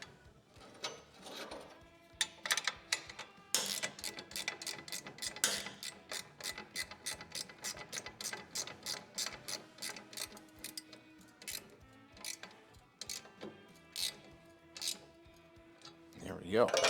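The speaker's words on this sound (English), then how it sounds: "Replace the bolt. Tighten that down." A ratchet clicks in long rapid runs as a bolt is tightened on a highway peg mount for an Indian motorcycle, crisp close ticks with brief pauses between strokes, and a voice talking at times.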